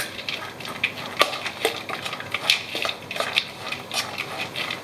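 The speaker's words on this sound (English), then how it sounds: "stir all that together" Grated lemon and orange zest stirred into a mixture in a bowl, a spoon clinking and scraping against the side in irregular taps, fairly quiet and close.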